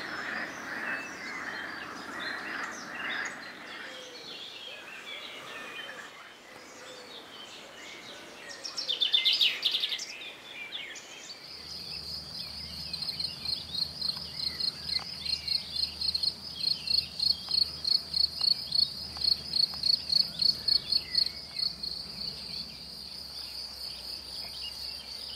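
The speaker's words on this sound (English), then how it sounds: "Listen to all those frogs." A chorus of frogs croaks in rapid pulsing trills outdoors by the water in the Creuse, France, rising after a quieter start and continuing steadily, with a bird call briefly heard.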